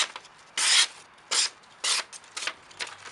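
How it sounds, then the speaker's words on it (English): A folding friction-folder knife blade is drawn across a leather strop in four or five distinct rubbing strokes, each a brief airy swish separated by pauses, close and clear with no talking. "just using a strop real quick, it makes the biggest difference in at least my sharpening of blades"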